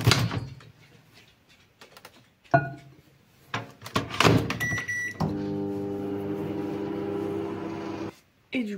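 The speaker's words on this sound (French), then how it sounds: "Je vais mettre ça au micro-ondes." A microwave oven runs steadily with a low electric hum and whirring after door clunks, knocks and a few beeps, heating a lunch dish in a home kitchen, then stops with a click.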